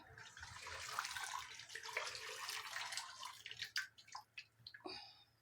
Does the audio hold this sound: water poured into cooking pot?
yes